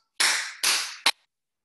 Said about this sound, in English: Three big claps.